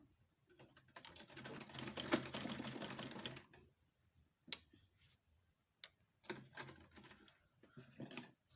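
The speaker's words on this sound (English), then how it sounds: "Remember, you're sewing right side to right side." Sewing machine stitching together two neckband pieces of a robe, a rapid mechanical whirring burst followed by shorter bursts of stitching, close and clear, with a few clicks in between.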